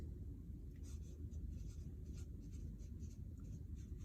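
Faint scratchy strokes of writing on a chart come in short bursts over a low steady background hum, quiet and close, with no voices.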